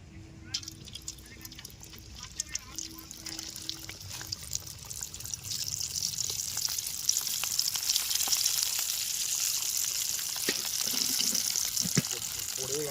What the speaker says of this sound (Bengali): এখন আমরা এই কুলপিগুলো গরম তেলের মধ্যে ছেড়ে দেবো